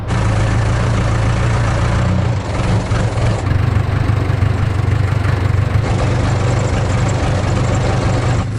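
Heavy backhoe engine running steadily at a low rumble while two workers lift a large SIP wall panel for a house's south wall, loud and continuous throughout with no talk.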